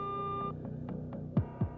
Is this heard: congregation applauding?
no